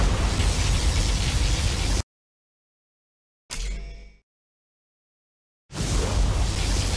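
Particle cannon blasts in Command & Conquer Generals: two long, loud roaring bursts of broadband noise with a short crackling surge between them, separated by dead silence.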